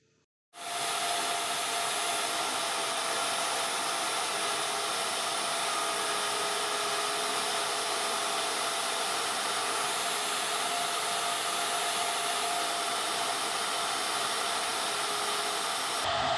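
A Shaper Origin handheld CNC router starts up and machines wood, a loud, steady high-pitched whine that kicks in after a brief pause and runs unbroken to the end.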